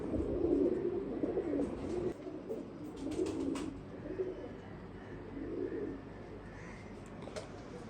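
A male teddy pigeon coos in soft, low, throaty phrases that repeat over several seconds, close by and against a quiet background.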